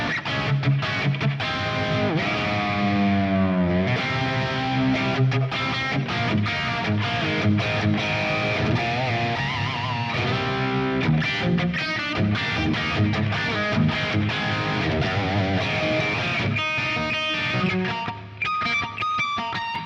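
Distorted electric guitar playing continuously, a gritty, sustained tone with bent notes and strummed chords, loud and up close.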